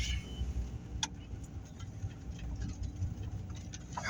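A car drives from Halifax to Dartmouth through a snowstorm, a low, steady road and engine rumble from inside the cabin with faint ticking and patter over it.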